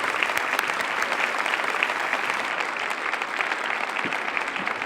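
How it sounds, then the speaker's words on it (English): A large conference audience gives a guest speaker, a city mayor, a sustained burst of applause: thick, steady clapping at full volume throughout with no pauses or talking. "Please give him a grand round of applause."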